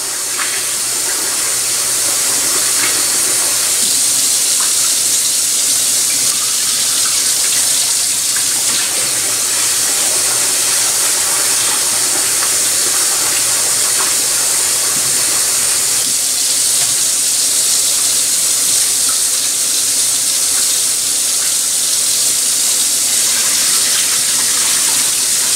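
Steady tap water runs and splashes into a bowl for the whole stretch, a constant loud hiss with faint sloshing as rice is rinsed.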